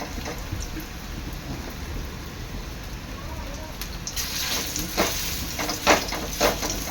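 Thin onion vadi slices frying in hot oil on a stove: a steady low hiss swells into louder, crackling bursts of sizzle in the second half, close and alone.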